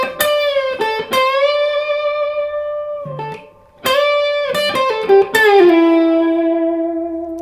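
Three electric guitar licks played back to back, with loud sustained, overdriven notes, bends and quick runs, unaccompanied and without talk.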